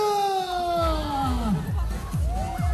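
Crowd at the Pyeongchang trout festival in Gangwon-do, shouting and cheering as people in short sleeves and shorts jump into a large round outdoor pool in winter; loud, continuous mass of raised voices and shrieks with rising and falling yells.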